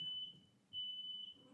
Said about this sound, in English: that is a smoke alarm, ladies and gentlemen